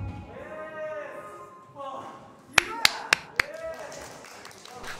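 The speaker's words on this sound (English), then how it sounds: "He's still clapping" Four sharp, close hand claps ring out in quick, even succession from a dancer in a dance practice, set between stretches of people talking.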